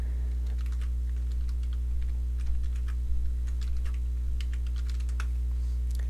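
Someone types a search on a computer keyboard, with rapid irregular key clicks throughout over a steady low electrical hum.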